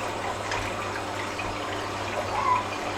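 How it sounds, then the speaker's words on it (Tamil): Small aquarium water pump motor running beside a fish tank, a faint, steady hum with soft trickling water layered over it and no voices. "மோட்டர் ஓடுது."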